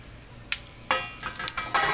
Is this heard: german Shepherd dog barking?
no